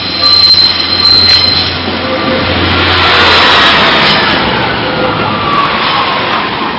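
A Class 142 diesel train rolls loudly past Lincoln Central level crossing, a sustained close rumble of wheels and engine swelling and fading, with a brief high squeal of wheels on rail and a warning tone near the start.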